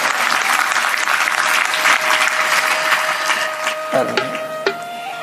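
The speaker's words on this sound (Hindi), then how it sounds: "ताली ताली ताली बजाओ, ईमानदारी से बजाओ।" Audience applause at a Hindu religious discourse (satsang katha), a dense steady clapping that fills the hall, then thins out and trails off near the end with a few last scattered claps.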